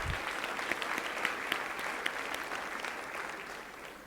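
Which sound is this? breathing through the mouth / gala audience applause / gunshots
gala audience applause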